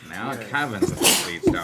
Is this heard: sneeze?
yes